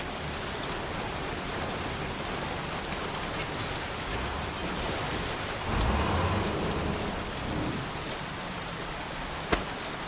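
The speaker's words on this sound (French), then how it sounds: "Foutu pluie, je suis trempé jusqu'aux os." Steady heavy rainfall in the Heavy Rain video game, a dense continuous hiss of drops on surfaces throughout, with a brief low rumble midway and a sharp tap near the end, no talking.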